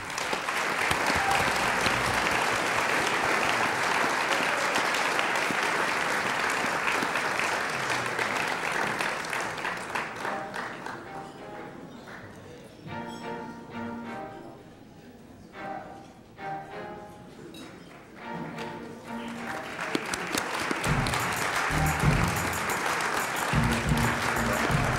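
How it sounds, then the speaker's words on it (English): A large audience applauds at a university athletic awards ceremony, loud and sustained at first, then thinning as music-like tones and murmurs take over before clapping swells strongly again near the end. "Let's have a big round of applause for Lori Wood"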